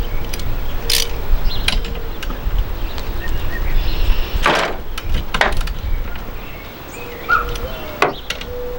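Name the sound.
ratchet removing 14mm wiper nuts on Subaru STi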